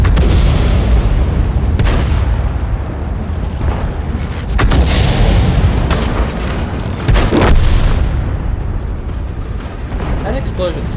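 Repeated tank shell explosions in World of Tanks, several heavy booms and cracks spaced a couple of seconds apart over a steady low rumble, with talk running underneath.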